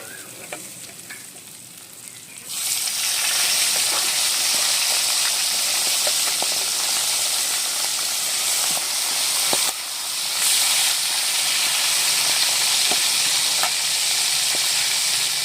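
Katla fish head pieces drop into hot oil and it bursts into a loud, dense sizzle and hiss, briefly dips near the ten-second mark, then roars on, heard up close after a quieter start.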